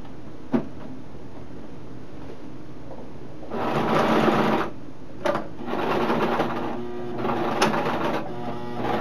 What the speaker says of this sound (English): I know this isn't a professional sewing machine.